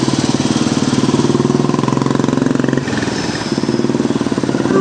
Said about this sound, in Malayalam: ബോധവൽക്കരണ പരിപാടിയുടെ മുന്നോടിയായി കൈമനം മാതാ അമൃതാനന്ദമയി മഠത്തിൽ നിന്നും ആരംഭിച്ച ബൈക്ക് റാലി സ്വാമി ശിവാമൃതാനന്ദപുരി ഫ്ളാഗ് ഓഫ് ചെയ്തു